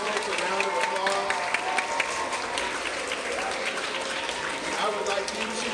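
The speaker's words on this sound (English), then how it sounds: "Let's give all these folks a round of applause." An audience claps loudly and steadily at an event after the speakers are introduced. The dense applause fills the whole stretch without a break.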